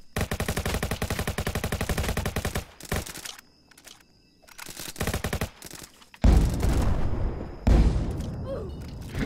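Rapid automatic Uzi fire in the Roblox game Jailbreak, a steady burst of close, loud shots for several seconds, followed by quieter scattered thuds and then a few heavy impacts.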